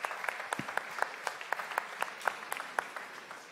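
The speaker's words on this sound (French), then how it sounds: "on peut applaudir Laurence" A small audience at a seminar session on ultrasound claps, sparse individual handclaps with a steady, distinct rhythm, fairly close and moderately quiet.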